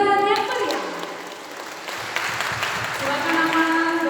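An audience at a Christian talk on Batak culture gives applause to welcome the first speaker, a pastor, with clapping that continues beneath a voice and tonal sounds at the start and end.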